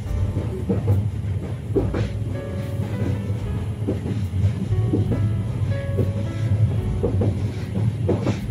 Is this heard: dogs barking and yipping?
no